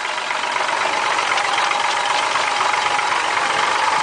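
Steady, even idle of a 1967 Ford 300 cubic inch straight six with a slight valve rattle and a 2-inch exhaust, loud and close, running continuously without pause and with no talk over it.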